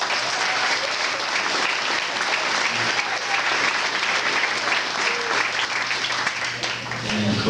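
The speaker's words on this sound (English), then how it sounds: "I just want to give him a round of applause" Sustained applause fills a soccer team banquet hall, a dense steady clapping from a large crowd lasting the whole stretch at even loudness, with no pause or talk standing out.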